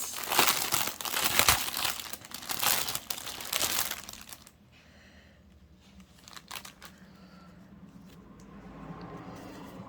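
Plastic packets of cross-stitch embroidery thread being opened: loud, close crinkling and crumpling for about four seconds, then quieter handling rustles.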